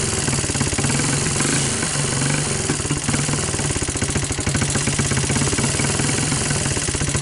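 A Honda TRX200SX ATV engine runs on choke with very loose valve clearances, a loud, close, continuous idle with a rapid ticking clatter throughout.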